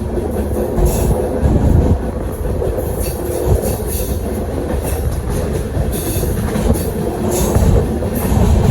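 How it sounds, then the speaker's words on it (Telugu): A passenger train on the Kolhapur to Kadapa route rolls through a long curve near Devarai station, close and loud, with steady rumble, rhythmic wheel clatter and occasional high squeals from the wheels on the bend. "చూడండి మన ట్రైన్ ఫుల్ టర్న్ తీసుకుంది ఇక్కడ"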